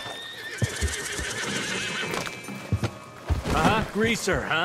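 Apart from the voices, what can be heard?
horse neighing in Red Dead Redemption 2 video game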